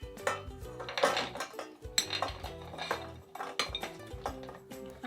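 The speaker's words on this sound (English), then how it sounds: "Now I'm going to add the chocolate," Chopped chocolate tips into a pan of butter for rocky road, with a busy run of metal clinks, scrapes and spoon knocks on cookware, close and fairly loud, no speech.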